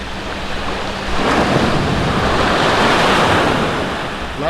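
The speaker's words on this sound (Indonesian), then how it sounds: "Lautku tak bertepi, ombaknya juga tak begitu besar." Gentle ocean waves wash onto a brown sand beach at Kuala Raja, a loud steady surf roar that swells midway and eases toward the end, with wind buffeting the microphone and no voices.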